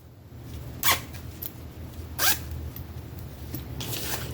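Yellow zipper among a batch of fashion and sewing supplies being handled, with two sharp zips close by over steady low room hiss and a few faint rustles.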